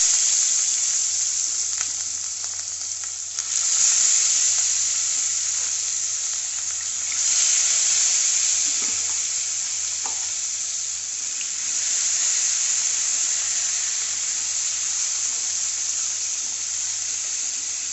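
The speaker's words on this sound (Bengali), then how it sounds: "তেলটা গরম হয়ে গেছে, এবার আমি মাছটা দিয়ে দেব।" Hilsa fish frying in hot oil produces a loud, sustained, even sizzle and hiss close by, running unbroken with only slight swells and a few faint clicks.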